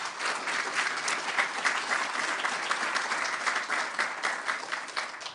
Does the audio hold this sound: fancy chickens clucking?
no